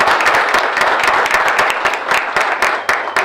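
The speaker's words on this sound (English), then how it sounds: "So let's give them a round of applause." Ceremony audience applauding honored students, a dense, steady roar of many hands clapping close by, with sharper individual claps standing out throughout.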